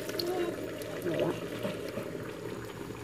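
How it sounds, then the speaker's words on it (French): Water being poured over meat in a cooking pot to make a broth for a prune and candied apricot meat dish, a steady close splashing fill with a faint voice underneath. "Je vais couvrir ma viande d'eau pour que ça fasse mon bouillon."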